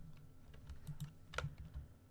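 Typing on a computer keyboard while coding JavaScript, with quiet irregular key clicks scattered across a couple of seconds, one slightly sharper keystroke near the end, close and alone.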